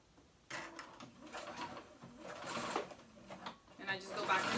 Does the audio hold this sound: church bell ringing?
no